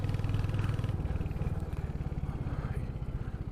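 A Royal Enfield Hunter 350 motorcycle ridden along a winding hill road to a mountain temple, its engine giving a steady pulsing thrum close by throughout, with faint speech mixed in.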